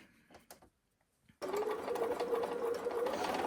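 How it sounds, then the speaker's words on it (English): A sewing machine stitching a mini quilt wall hanging starts up after a few soft handling taps, then runs steadily and briskly with a whirring motor and fast rhythmic needle clatter close by. "Oh, my machine sounds so much happier now."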